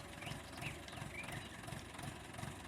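Tractor engine in Farming Simulator 19, a steady low idling drone with a faint rhythmic pulsing, fairly quiet and continuous throughout.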